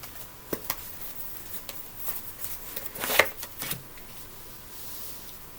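A deck of tarot cards is shuffled close by, with soft, quick riffling flutters and light taps scattered through a quiet room, one louder burst near the middle.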